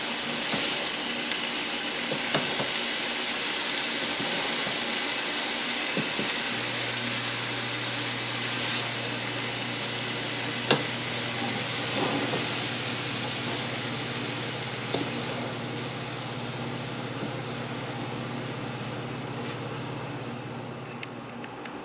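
Broccoli sizzles and crackles in a hot pan after the heat is shut off, a steady frying hiss running throughout with faint scrapes of stirring and a low steady hum underneath; no one speaks.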